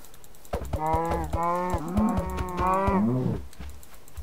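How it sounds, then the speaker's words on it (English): Cows moo in the video game Minecraft, two or three long, loud, close lowing calls in quick succession, with faint keyboard tapping underneath and no talk. "we should probably kill a couple cows"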